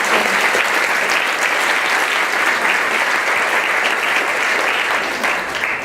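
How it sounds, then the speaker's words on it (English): Sustained audience applause for three young people after a session, a dense steady wash of clapping filling the whole stretch without a break. "Can we have one more round of applause for our 3 young people?"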